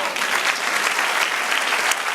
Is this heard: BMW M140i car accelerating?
no